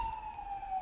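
Siren sounding as a steady high wailing tone, moderately distant and sustained over a low rumble of background noise.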